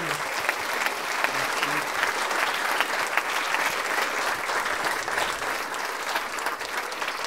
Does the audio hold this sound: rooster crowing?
no